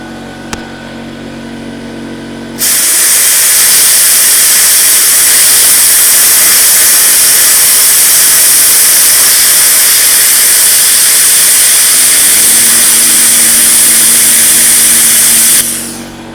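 A Vevor 110v/220v plasma cutter slices through 3/8-inch aluminum with a loud, close, continuous rushing hiss of air and arc. The hiss starts abruptly after a quieter hum and stops near the end, leaving a faint hum.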